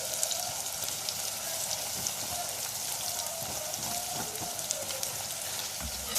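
Onions sizzling in very hot oil while being stirred, a steady soft crackle and hiss with scattered small pops, fairly quiet and close.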